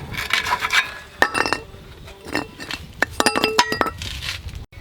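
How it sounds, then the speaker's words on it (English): A bolt is worked loose from the frame shackle of a 1996 Ford F250, with close metallic clinks, taps and scraping rubs in short irregular bursts. "take the bolt here that goes through your frame that holds your shackle on here off"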